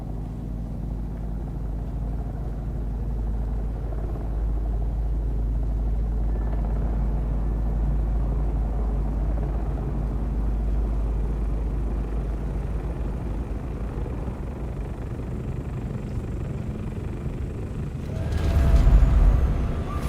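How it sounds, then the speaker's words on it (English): Ornithopter in the game Dune Awakening: a steady low rumbling drone of rotor and engine runs throughout, swelling louder and closer near the end with a brief roaring burst. "I hear an ornithopter."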